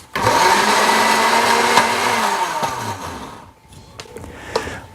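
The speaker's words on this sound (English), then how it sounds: "grind them up in a blender, not very thinly and only just for a few seconds" A blender grinding leaves whirs loudly for a few seconds, then winds down and stops, leaving faint clinks and rattles.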